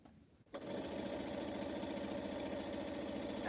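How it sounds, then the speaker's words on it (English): A sewing machine stitches pineapple quilt blocks, starting after a brief quiet moment and then running in a steady, close, continuous mechanical whir with a rapid rhythmic needle patter. "I just sit here quietly and sew"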